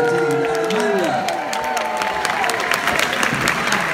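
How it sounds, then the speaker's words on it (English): A comedy weekender audience bursts into dense applause with cheering and whoops, a steady wash of clapping close by, while a voice speaks over it at the start. "the audience will go mad with applause"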